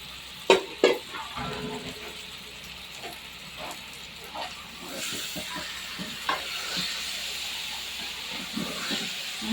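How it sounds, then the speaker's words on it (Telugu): Chicken pieces sizzle steadily in hot oil with ginger and turmeric for a gravy curry, a continuous close hiss with a few sharper crackles and stirring knocks early on. "చికెన్ కూడా ఇందులోనే వేసి కాసేపు ఆయిల్లో మగ్గించుకున్నాము"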